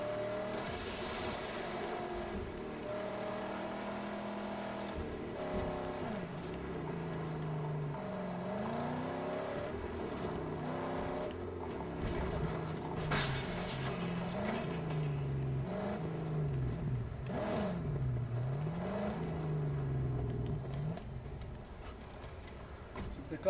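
A video game car engine in Mad Max hums continuously, its pitch rising and falling as it speeds up and slows down, with occasional mechanical clicks in the background.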